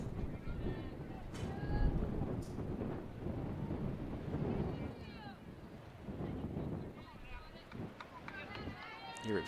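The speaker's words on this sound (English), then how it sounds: "It's really dark and windy now" Strong wind buffets the microphone with a low, rumbling roar at a softball game, while people talk over it and the gusts rise and fall.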